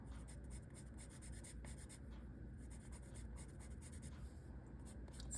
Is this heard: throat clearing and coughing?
no